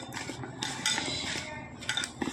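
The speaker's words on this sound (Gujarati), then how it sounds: "બધું સરસ આપણે મિક્સ કરી લઈએ." A spoon stirs a spiced stuffing in a bowl for Gujarati ravaiya, producing close scraping and clinking against the bowl in irregular bursts over a short stretch.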